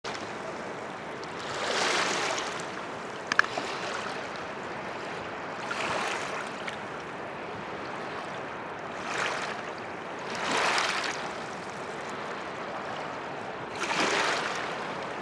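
A swollen river rushes after a cloudburst in the hills, a steady broad roar of flowing water that swells and eases in slow waves.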